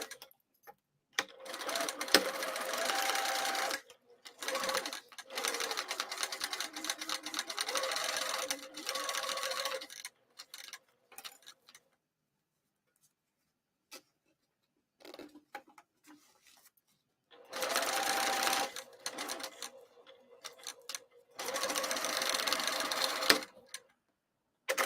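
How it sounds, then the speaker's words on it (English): A home sewing machine set to its longest stitch runs down the long edges of a bag to attach foam, whirring in several long rapid bursts separated by silent pauses. "I'm just going to sew down the long edges to attach the foam"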